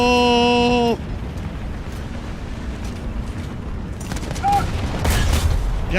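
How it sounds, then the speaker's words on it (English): Tank cannon fire and battle noise in the War Thunder video game, with a steady harmonic engine or alarm tone at the start, then rumbling background and sharp bursts of gunfire building toward the end, loud and dense. "That was a very lucky shot I just took there"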